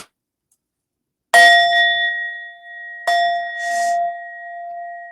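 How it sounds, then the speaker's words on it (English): Indian metal singing bowl with a Buddha figure in the middle, struck twice, each strike a bright clang followed by a long, pure ringing tone that lingers close and clear, with no voices. "I have this metal bowl I use with the beautiful Buddha in the middle."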